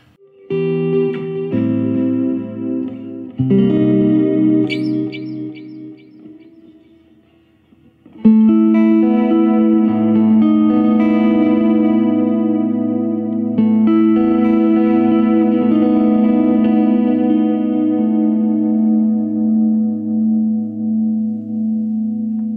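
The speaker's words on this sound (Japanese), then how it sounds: "リバーブ追加して、ちょっとスプリングリバーブとかにしましょうか。" Sustained electric guitar chords through a Fender Tone Master Pro ring out with lush spring reverb and echoing studio delay repeats, a brief lull, then a fuller swelling passage trailing off in wash.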